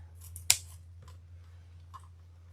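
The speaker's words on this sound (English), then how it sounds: "I need to just cut that end off square" A single crisp snip of scissors cutting the end of a slippery satin ribbon square on a Valentine's wreath, close and clean against a quiet room with a low background hum.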